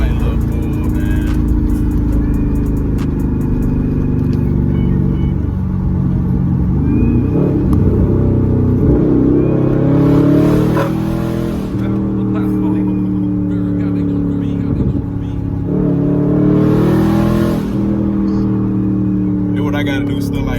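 A Dodge Charger SRT8 with straight-pipe exhaust revs and pulls, deep rumbling engine swells rising and falling close by, with someone talking over the noise.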